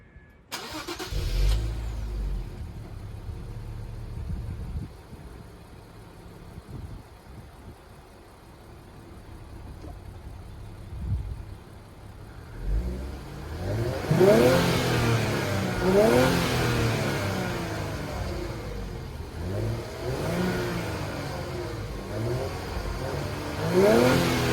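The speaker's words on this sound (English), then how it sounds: "let me go ahead and rev up the car for you" An Infiniti Q50 twin turbo with modifications starts up and revs; a quiet idle rumble gives way after a pause to a run of loud, repeated throttle blips that rise and fall close by, with no talking.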